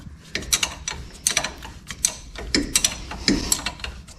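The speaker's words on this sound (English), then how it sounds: "Watch somebody use a wrench in real time." Ratchet wrench working on the front wheel hub of a 2012 Chevy 4x4 truck during a wheel hub replacement, giving bursts of rapid clicking strokes in irregular groups, fairly close and clear with no talk.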